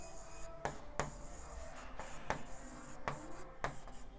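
Chalk or marker strokes scratch across a classroom board during a Hindi-medium English grammar lesson, a quiet scraping broken by several sharp taps at irregular intervals, with no voices.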